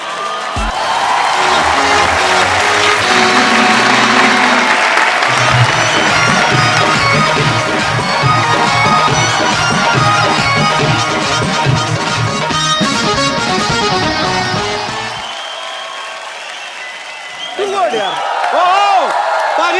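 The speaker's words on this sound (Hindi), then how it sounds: "प्लीज आप सबकी जोरदार तालियों के बीच इनवाइट करना चाहता हूँ" A TV comedy studio audience on The Kapil Sharma Show applauds and cheers loudly as a singer is welcomed on stage, with music mixed in. The crowd noise holds strong, then fades near the end as voices take over.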